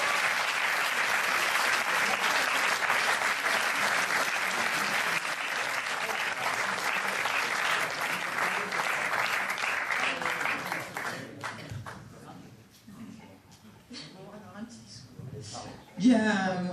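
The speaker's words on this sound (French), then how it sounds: "on a applaudi Chantal et Pierre-Olivier pour les stylistes" An audience applauds stylists Chantal and Pierre-Olivier at an awards premiere evening, a full, sustained crowd clapping that fades after roughly eleven seconds into scattered claps and quieter room noise, with a sharp bump near the end.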